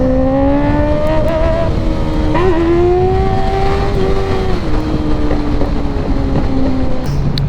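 A motorcycle engine drones loudly and steadily up close while riding, with a few sharp exhaust pops and crackles near the start.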